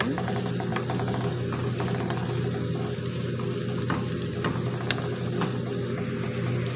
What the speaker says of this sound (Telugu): ఉల్లిపాయ, మగ్గిదాకా తిప్పుకోవాలండి. ఇలాగా ఎర్రగా మగ్గాలండి బాగా.